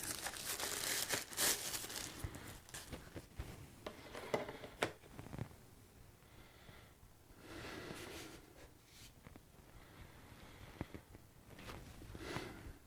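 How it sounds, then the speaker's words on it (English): Protective plastic covering is crinkled and peeled off a PELSEE P12 Pro 4K mirror dash cam, with close, irregular rustling and tearing bursts over several seconds and quieter gaps between them. "let's go ahead and unwrap the protective covering."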